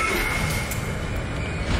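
A tram in the video game Dead Space rolls along its tracks, giving a loud, steady rumble with a faint high whine on top and no talking over it.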